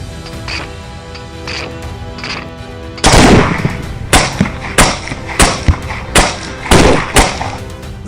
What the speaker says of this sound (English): Gunfire punctuated the stillness as each successful shot dropped another target.